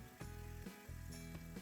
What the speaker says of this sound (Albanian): Shtojmë specat, i bëjmë specave një skuqje të lehtë.